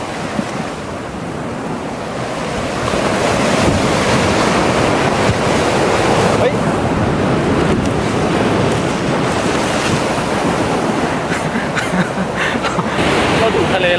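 Ocean waves surge and wash continuously onto a black sand beach at Inamuragasaki in Kamakura, Japan, loud and close with steady wind buffeting the microphone.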